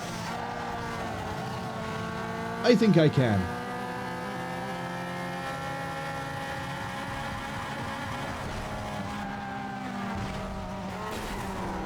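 Race car engines drone steadily in Need For Speed Underground 2, broken by a short, sharp burst of tire squeal early on, while someone talks over the game sound.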